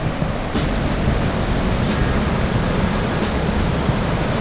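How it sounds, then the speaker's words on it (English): The Big Thompson River rushes past a pool along a hiking trail in Rocky Mountain National Park, a loud, steady, close roar of flowing water with no voices. "Big Thompson River, the pool."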